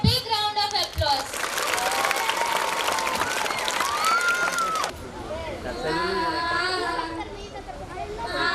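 Loud crowd applause with some cheering swells for about five seconds after a stage performance at a cultural show, then gives way to a voice over festive music.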